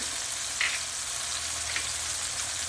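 Onions sautéing lightly in a pan with sugar cubes about to go in, a steady, even sizzle holding throughout with faint stirring scrapes, close by and no talking.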